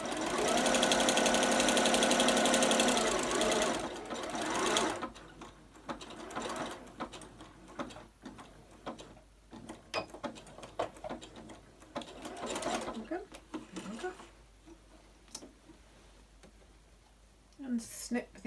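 A home sewing machine whirs loudly through a stretch of stitching, then falls to intermittent mechanical clicks and handling noises while someone talks nearby.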